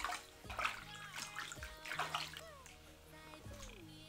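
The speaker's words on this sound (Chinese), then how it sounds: "咱们倒水先把肉往进洗一下，" Water poured over chunks of pork belly as they are washed by hand for a Shaanxi-style pickled cabbage pork dish. Splashing and sloshing come in bursts, with faint voices in the background.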